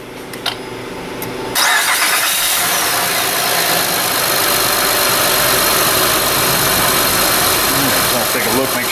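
A Honda 3.5 J35 engine, freshly fitted with a new timing belt, cranks briefly and catches, then settles into a loud, steady idle heard up close for the rest of the clip.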